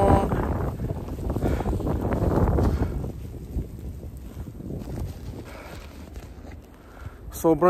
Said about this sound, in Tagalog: Kasi sobrang lakas ng snow, guys.